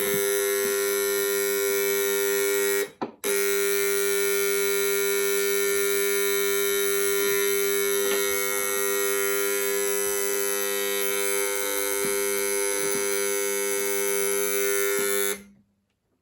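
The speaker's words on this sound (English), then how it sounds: "I think that might be just the noise it makes to make the tea." An alarm clock tea maker hums steadily and loudly while brewing tea, a sustained electric buzz that stops briefly near the start, resumes and then cuts off at the end.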